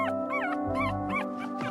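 Newborn puppies whimpering while nursing, a run of five or six high, thin rising-and-falling whines in close succession, near and fairly loud, with a soft low rumble underneath.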